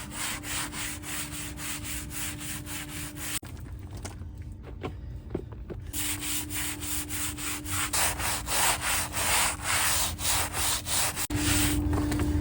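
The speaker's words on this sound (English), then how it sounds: "Just giving it a bit of a scrub down, washing off." Steady rubbing and scrubbing on the hull of a narrowboat as it is washed down, a continuous close abrasive swishing that pauses briefly in the middle and then resumes.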